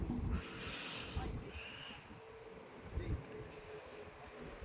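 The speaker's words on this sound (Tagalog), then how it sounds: "Ang lakas ng hangin." Gusty wind on Mt. Samat, Bataan buffeting the microphone in low rumbling bursts, with faint airy hiss above and a brief voice-like sound in the middle.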